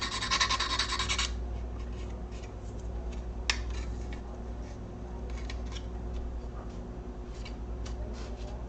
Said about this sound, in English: there's a lot of sprue points on here to be sanded